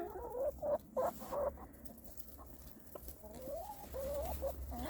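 Mixed flock of Plymouth Blue Rock, Americana and Wyandotte chickens in a winter coop, with repeated close clucks and short calls over a steady low background hum and shuffling.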